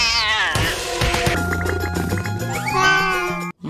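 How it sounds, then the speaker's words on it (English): A cartoon cat lets out a long, drawn-out meow that rises and falls, close and loud, with a second wavering yowl near the end before a brief cutoff. "Domino is not just a cat."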